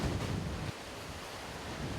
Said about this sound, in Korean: 궂은 바람이 부는 부산시 기장군의 한 바닷가.